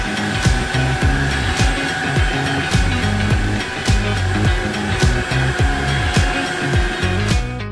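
A Tineco S9 Artist Pro floor washer vacuums dog hair off a floor with a loud, steady motor whine and roller hum, broken by regular rhythmic swooshes as it is pushed back and forth close by.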